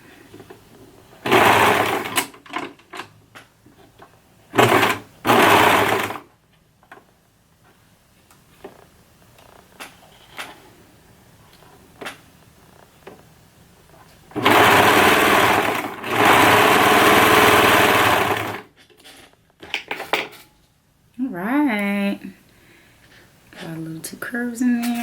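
A sewing machine stitches the top of a dress to its skirt in several bursts, short runs and then a long steady whir, close and loud, with pauses and quiet handling noises between.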